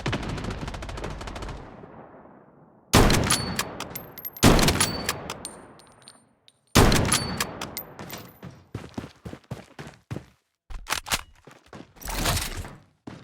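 Gunfire in the shooter game Blood Strike comes in several loud, close bursts of rapid automatic shots, separated by short silences and trailing echoes, with a few small metallic pings between volleys.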